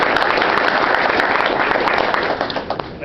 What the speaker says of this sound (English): let's have a round of applause for Mark